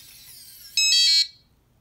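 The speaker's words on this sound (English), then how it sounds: "press and hold that to hear the beep" A short burst of high electronic beeping from an RV keyless entry keypad lock, a few quick tones close by, then quiet.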